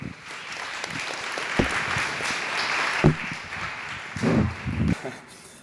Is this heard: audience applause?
yes